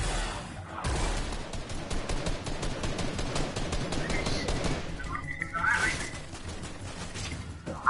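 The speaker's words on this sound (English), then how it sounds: "Someone shot at me." Rapid, dense gunfire in an online shooter video game, continuous crackling bursts running through the whole stretch with a brief whistling tone near the end, fairly loud.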